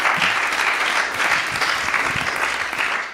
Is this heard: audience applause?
yes